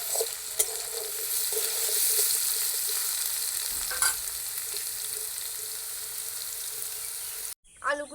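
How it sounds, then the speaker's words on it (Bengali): Potatoes frying in hot oil for an egg bhujiya curry give off a steady, close sizzle and crackle that runs throughout, with a few brief spikes of spattering and a short clatter near the end. "লাল লাল করে ভেজে নেবো একবার সুন্দর করে"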